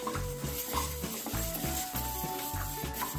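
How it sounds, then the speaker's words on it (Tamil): Moong dal dry roasts in a pan over a medium flame, giving a soft, steady scraping and stirring rhythm with faint crackling, close and quiet with no talking. "இதை நல்லா பொன்னிறமாக கருகாமல் வறுத்துக்கணும்."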